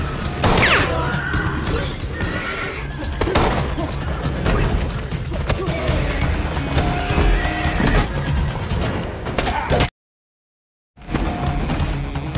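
A horse whinnies and hooves clatter in a John Wick action scene inside a horse stable, with loud close neighs, thudding clip-clop and crashing impacts, then a brief silence before the commotion resumes.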